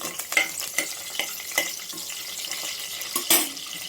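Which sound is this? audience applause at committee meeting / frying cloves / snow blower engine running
frying cloves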